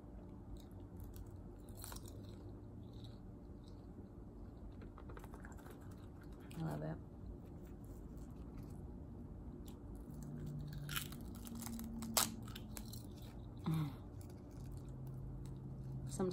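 Crunchy seaweed snacks are chewed close to the microphone in a sushi and wasabi eating session, with soft irregular crackles and munches over a steady low background hum.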